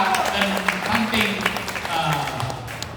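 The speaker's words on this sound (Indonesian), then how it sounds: "Sekali lagi, tepuk tangan untuk pengurus OPK dan ranting" An audience claps for newly installed organization officials at an induction ceremony of a Batak community group, steady applause from a crowd in a hall, fairly loud and sustained throughout.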